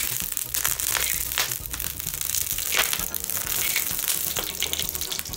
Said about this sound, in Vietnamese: Tôi sẽ dùng một tí mỡ choáng qua chảo.